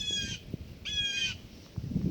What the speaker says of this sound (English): There's a jay bird right up there in that tree.